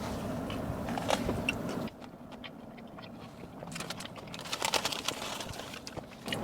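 Someone bites and chews a Wawa wrap close up, with crunchy bites and irregular clicks of mastication and a short quieter pause partway through.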